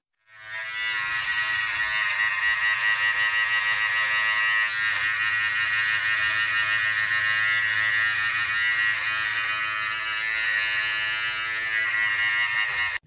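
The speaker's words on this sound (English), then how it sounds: "now we're going to go down to a number 3 millimeters on the beard trimmer" A beard trimmer set to a 3 mm guard runs on a beard with a continuous, loud electric buzz that starts abruptly and holds steady with slight changes in pitch as it moves through the hair.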